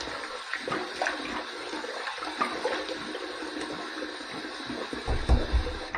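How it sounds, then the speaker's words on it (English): Warm tap water runs and splashes steadily as a face is rinsed after a wet shave with bay rum shave soap, a continuous hiss with louder splashing near the end. "Here's my warm water rinse to get this excess slickness off."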